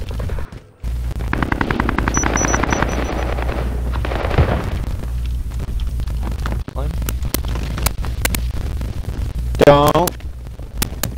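Rapid automatic gunfire from a Warzone match rattles in bursts, with sharp single shots cracking near the end, under ongoing players' chatter and a low steady hum.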